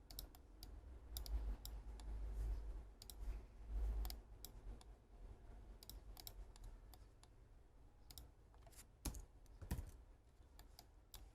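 Computer keyboard keys being pressed for shortcuts while designing a pull-rod front suspension in CATIA, a run of sharp, close clicks and taps at an irregular rhythm with low background noise and no talk.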